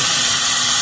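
A loud, continuous hiss of compressed air rushing through a hose during work at farm silos, steady and unbroken throughout.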